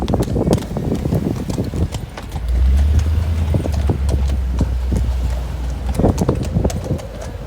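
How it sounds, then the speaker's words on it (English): Horses' hooves clip-clop on a street in South Gate, California, a brisk uneven rhythm of close hard knocks over a passing car's low rumble. "you see these beautiful horses"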